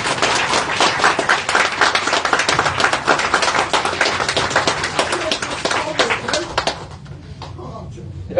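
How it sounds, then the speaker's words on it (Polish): Football supporters at a Śląsk Wrocław rally clap loudly and continuously, a dense close crackle of many hands that thins out and fades near the end. "Naprawdę wielkie brawa dla kibiców."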